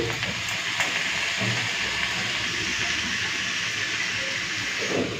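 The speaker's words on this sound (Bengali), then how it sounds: "একটুখানি পোস্তটাকে ভেজে নিচ্ছি" Poppy seed paste fries with lightly boiled potatoes and ivy gourd in a pan, a steady loud sizzle that goes on throughout with a few faint clinks of utensils.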